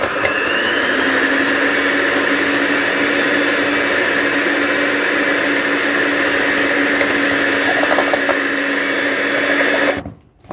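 An electric mixer whirs steadily through red velvet cake batter, a loud constant motor drone with a slight rattle that runs unbroken for about ten seconds before switching off abruptly.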